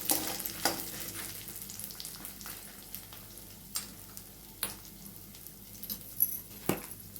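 Soft, steady sizzle of spices, dried coconut and asafoetida roasting in a pan, punctuated by repeated scraping and tapping stirs at irregular intervals, fairly quiet throughout.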